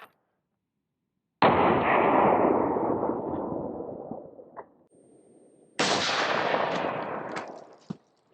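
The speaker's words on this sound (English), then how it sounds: "We have that M80 ball loaded up there, and we're going to fire it through my Savage" A Savage rifle with a 22-inch barrel fires an M80 ball round into a Level III+ steel armor plate, giving one loud sharp report that rings and decays over several seconds, then a second loud blast follows; no voices.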